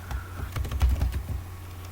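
Quick, light typing on a computer keyboard, an irregular patter of close key clicks lasting a couple of seconds with no voices.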